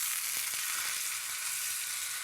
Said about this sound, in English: That's what we're after, that lovely sizzle.